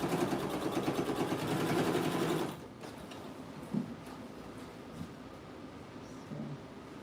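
A sewing machine stitches a skirt hem with a dense, rhythmic whir for about two and a half seconds, then stops, leaving quiet handling noises and a few soft knocks.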